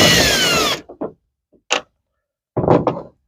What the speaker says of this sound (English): you got to remove the screws that hold the taillight in place. They are Torx head.